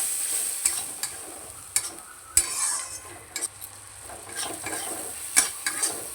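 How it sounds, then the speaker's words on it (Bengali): Spice paste, loosened with a little water, sizzles softly in a pan while a metal spoon stirs and scrapes it, with sharp clinks against the pan at irregular intervals. "মশলাটা একটু কষিয়ে নিচ্ছি।"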